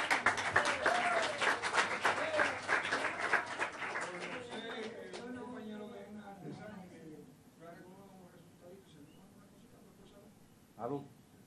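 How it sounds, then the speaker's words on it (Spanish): A church class group applauds Orlando, brisk clapping for about four seconds that quickly dies away into quiet talk and a few scattered sounds. "Un aplauso, Orlando."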